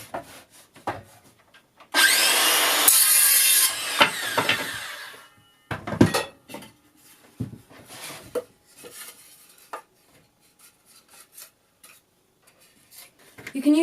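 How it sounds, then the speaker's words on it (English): Circular saw cutting pallet wood slats in a short, loud burst of about three seconds, followed by scattered clatter, knocks and handling of the wood pieces. "I'm going to use a circular saw to quickly cut these slats up."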